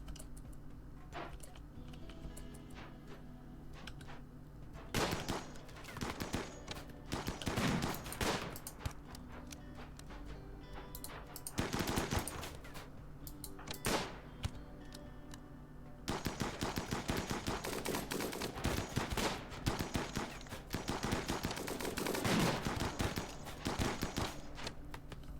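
Scattered gunshots and rapid bursts of fire ring out in a battle in the video game RimWorld Odyssey, clustering into dense volleys in the second half with no talking.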